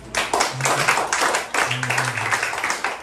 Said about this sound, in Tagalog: Lahat ng nasa kay Kristo, pumalakpak